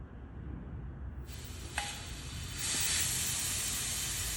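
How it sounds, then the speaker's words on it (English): Nitrous oxide bleeds out of a loosened hose fitting during bottle filling, starting as a soft hiss, then opening into a loud, steady, close rushing hiss that continues to the end. "I usually just crack them because it is gonna bleed out."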